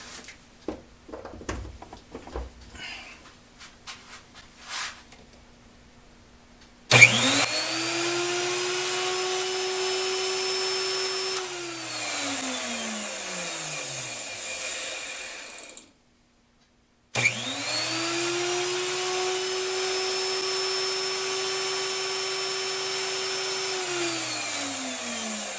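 A Porter Cable router motor, freshly oiled with 30 weight non-detergent oil, is plugged in and whines up to speed, runs steadily, then cuts off and spins down. It starts again and runs loud and steady, with no talk.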